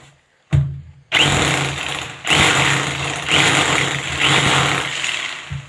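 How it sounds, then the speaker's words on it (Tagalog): A hammer drill runs in loud, steady bursts with a brief pause between them, a whirring, rattling drone close by as it bores into a marked spot before a wall plug is fitted. "kailangan nakasit up tayo sa hammer with drill. Iikot at didiin siya."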